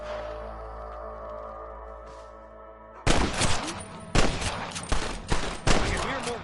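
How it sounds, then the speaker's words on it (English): Heavy gunfire in the video game Red Dead Redemption erupts after a quiet stretch, with several loud, rapid bursts and volleys of shots close by, separated by brief pauses. "I can hear more gunshots"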